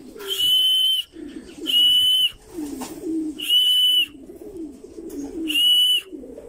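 Racing pigeons entered in a Christmas race coo softly in their loft, close and continuous, while a loud, steady high whistle tone sounds four times at regular intervals over them.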